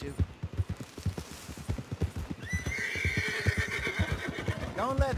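A horse in Red Dead Redemption 2 clops along with steady hoofbeats, then lets out a loud, drawn-out neigh near the end, close and clear with game ambience behind.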